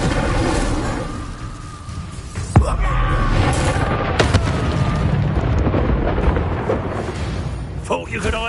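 An Incendio fire spell is cast in Hogwarts Legacy, giving a roaring, rumbling burst of flame with sharp cracks and impacts amid battle noise and shouted voices.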